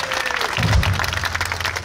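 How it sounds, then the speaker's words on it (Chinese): Audience applause rings out for the drummer at an outdoor folk and alternative band concert, a moderate crowd clapping with some cheering and a low sustained instrument tone underneath. "给我们的鼓手文伟掌声鼓励鼓励。"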